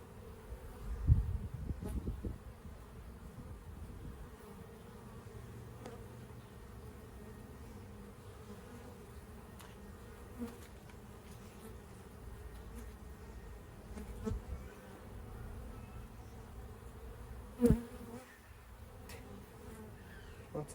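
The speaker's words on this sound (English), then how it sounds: "Lots of little bees." A continuous low drone of many honeybees buzzing close by around beehive frames, with a few louder passes and faint knocks and handling noises.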